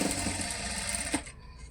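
A sewing machine runs steadily while stitching the side slit of a chudidar top, a continuous close mechanical whir that stops abruptly near the end.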